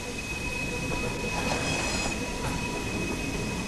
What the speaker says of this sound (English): the sound that those trains make with, yeah, never gets old, does it?